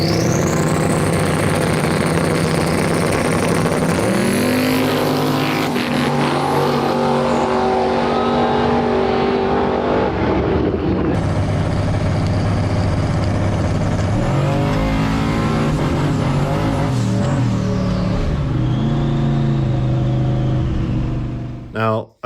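A no-prep drag race car launches down the strip in a beginners class, its engine revving and rising in pitch as it pulls away loud and close, shifting partway through, with voices talking over it.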